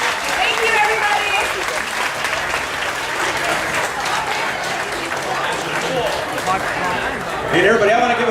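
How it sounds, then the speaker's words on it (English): A sustained round of applause from a television studio audience, loud and dense throughout, with a host's voice briefly heard over the clapping near the end. "I want to give a big round of applause to the Chamber of Commerce for bringing these great guests to us."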